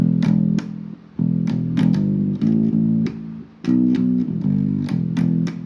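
A guitar plays a short repeated riff of plucked notes with steady rhythm and brief gaps between phrases, close and clear, no speech.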